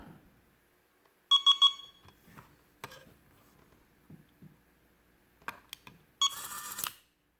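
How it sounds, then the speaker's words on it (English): A first-generation Armstrong SDWF-MC202 fingerprint lock gives a quick burst of three sharp electronic beeps, then a longer, brighter tone near the end, separated by faint handling clicks in an otherwise quiet room. "When it beeps"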